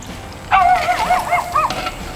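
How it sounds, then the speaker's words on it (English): A neighbour's new dog gives a short run of yelping, whining barks close by, several rising and falling cries in quick succession against a quiet background. "Shut up, dog."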